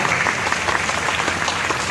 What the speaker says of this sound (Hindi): कृपया निवेदन है, तालियों में कंजूसी ना हो।